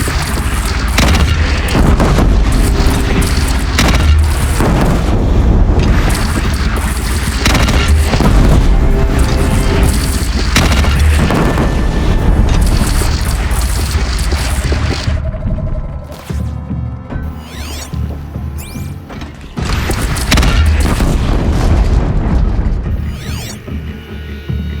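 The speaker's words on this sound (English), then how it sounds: "They only have one cannon!" Cannon fire and battle explosions in the video game Horizon Zero Dawn boom repeatedly amid clanking mechanisms and dense combat noise, loud and sustained before thinning into sparser hits.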